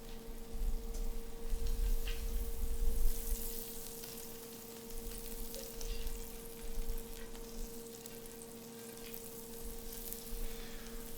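Mushrooms fry in a generous amount of butter in a pan, giving a steady, close, soft sizzle and crackle with occasional stirring scrapes and no talking.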